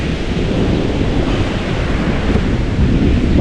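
Surf breaking steadily on Patong beach, Thailand, during rain, a dense continuous wash of waves with wind rumble, loud and close throughout without any talk.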